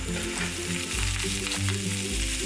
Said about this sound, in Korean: 마늘 볶은 팬을 다시 강불에 올려 마늘기름, 참기름을 넣고 새송이버섯을 올려주세요.